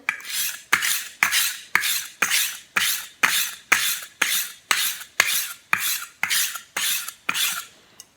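A knife is drawn across a sharpening stone on the pull stroke, lifted each time. Thirteen even, rasping strokes repeat at a steady rhythm, close and clear, with no voices.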